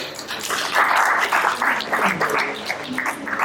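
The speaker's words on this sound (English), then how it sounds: "A very big round of applause to everyone." Audience applause at a 30th foundation day event held in a hotel, a dense, steady wash of clapping from a full room that swells and continues for several seconds.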